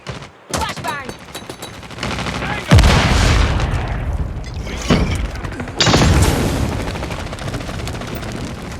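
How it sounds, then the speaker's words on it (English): A flashbang grenade goes off in a Call of Duty Mobile match, a loud boom amid bursts of rapid gunfire and further heavy blasts, with game voice callouts mixed in. "Flashbang."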